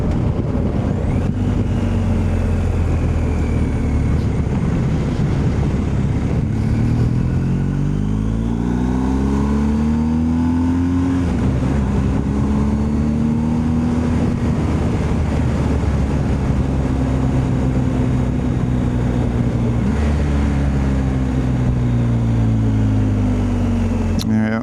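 A 2024 BMW R1250 GS Adventure motorcycle engine, loud and close, rising and falling through revs with quick auto-blipper downshift blips and sustained acceleration, rushing wind noise over it.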